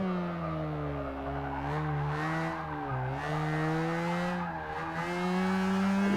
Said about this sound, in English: Oh my god, it revs so high